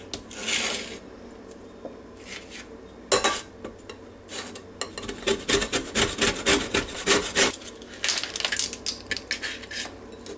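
Lemon zest being grated comes through as a close, dry rasping scrape, starting in scattered strokes and then settling into a quick run of repeated rubbing passes.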